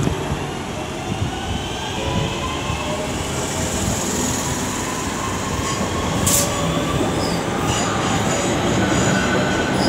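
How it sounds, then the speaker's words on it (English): A Class 323 electric train pulls out of Aston station, giving a steady rolling rumble of wheels on rail with faint squeals and a brief high-pitched tone near the end. "it looks like 323 208 is now just about ready to depart as the Bromsgrove service departs behind him"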